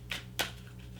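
Two quick papery riffles of a deck of oracle cards being shuffled by hand, close and soft, with no voices.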